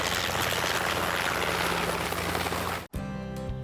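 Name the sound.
helicopter flying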